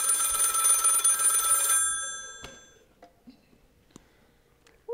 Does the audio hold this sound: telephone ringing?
yes